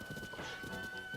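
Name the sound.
horse galloping in Tears of the Kingdom video game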